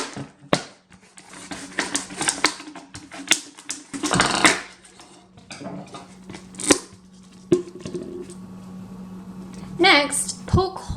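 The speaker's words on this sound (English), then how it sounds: "Next, you're going to cut the top off of the bottle" Scissors snip around the top of a plastic bottle in a series of close, sharp crunchy cuts with irregular spacing, separated by brief pauses and handling noises.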